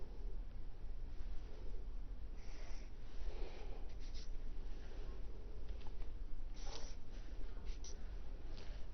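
Faint strokes drawing a directed angle on a classroom board scratch intermittently, a few short squeaky marks over a steady low room hum.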